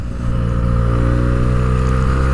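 Benelli 302 motorcycle engine on its stock exhaust, a steady close idle with a smooth, even drone that lifts slightly in the first moment and then holds, with no talking.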